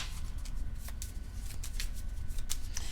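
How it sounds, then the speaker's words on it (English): A deck of KeyForge cards is shuffled by hand at a tabletop game, giving a soft, steady riffling with several sharp snaps of cards, fairly close and heard alone. "I'll shuffle and draw one."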